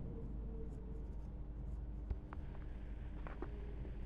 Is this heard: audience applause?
no